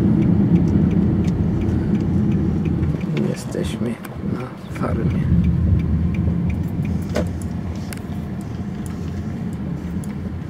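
A car on the way to a vegetable farm in the Canadian countryside, its engine and road noise forming a steady low rumble from inside the cabin while someone talks over it.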